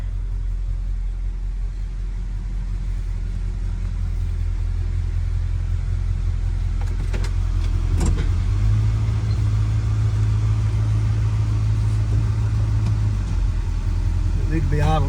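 Wide old car engine idling with a low steady rumble while being pulled into a garage, with a brief rise in pitch midway as it moves, and someone speaking over it.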